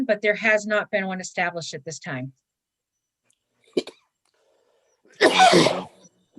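A single sharp sneeze during a water and sewer committee meeting, loud and close, following a stretch of plain talk and a short quiet pause.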